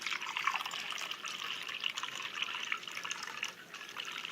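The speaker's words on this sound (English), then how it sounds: "So I'm going to pour me a glass." Wine pours steadily into a glass with a light glaze, a continuous bright trickling splash running close and alone for several seconds.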